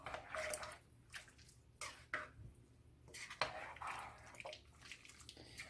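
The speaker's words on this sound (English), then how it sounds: "Okay, we're going to give that a stir." Chili with beef and beef bouillon stirred in a pot: soft scraping and clinking of a spoon against the pot, intermittent strokes with wet, splashy textures, fairly quiet and close.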